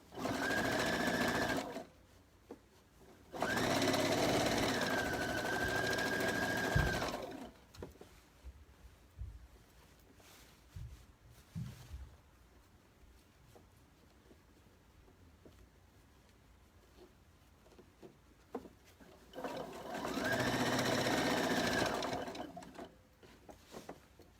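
A sewing machine stitches a stretched t-shirt into a children's dress in three sustained runs of steady motor whir, separated by quiet pauses filled with faint handling clicks and fabric rustle.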